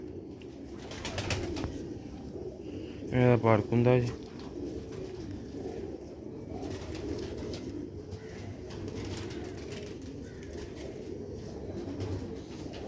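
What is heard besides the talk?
rooftop pigeon cooing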